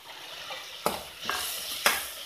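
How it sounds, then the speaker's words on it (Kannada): Tomato fried with onion in a pan for a Mangalore-style crab masala, with curry leaves being stirred in: a soft continuous sizzle broken by three sharp scraping stir strokes, close and alone. "ಕರಿಬೇವೇನು ಫ್ರೈ ಆಗೋದು ಬೇಡ, ಸ್ವಲ್ಪ ಹೀಗೆ ಮಿಕ್ಸ್ ಮಾಡಿದರೆ ಸಾಕು"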